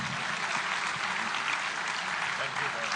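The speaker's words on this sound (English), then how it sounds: "Another round of applause." A seated audience at a formal discussion forum applauds in a dense, even wash of clapping that holds steady throughout, with speech mixed in beneath it.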